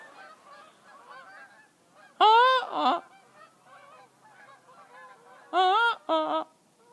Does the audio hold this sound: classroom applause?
no